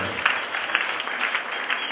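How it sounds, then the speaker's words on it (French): A church congregation claps enthusiastically during a worship service, steady, dense applause with sharper individual claps standing out, fairly close and continuous throughout. "Nous applaudissons très fort le Seigneur Jésus."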